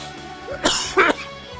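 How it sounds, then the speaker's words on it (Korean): Two quick, sharp coughs burst out close up, one right after the other, over a faint background hum. "제가 기침을 하면 말이죠."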